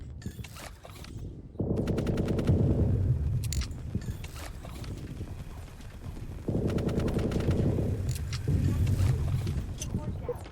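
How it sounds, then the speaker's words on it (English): Rapid assault rifle bursts fired at asteroids in the VR space game Orbital Strike, two long sustained volleys of steady automatic fire, loud and close, with a speaking voice present. "Hitting the asteroids with your assault rifle."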